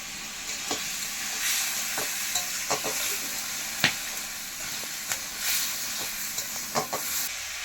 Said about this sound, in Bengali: আলু আর পেঁপে দেওয়ার পরে মশলাটা আমাদের ভালো করে কষানো হয়ে গেছে